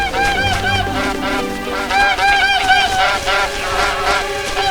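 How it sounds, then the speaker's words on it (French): A flock of wild geese honks in a dense, overlapping chorus of repeated nasal calls, loud and close, carrying on without pause throughout. "des oies sauvages"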